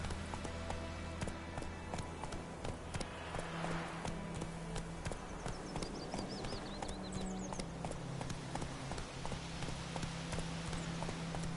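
Horse hooves clip-clopping in a steady trotting rhythm, with sharp repeated clicks under a dense wash of background sound and a few faint vocal calls.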